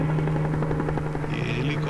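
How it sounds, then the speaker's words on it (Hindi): Overhead, a helicopter keeps up a constant, fairly loud rotor drone and thrum, a scene from an action film. "ये हेलीकॉप्टर"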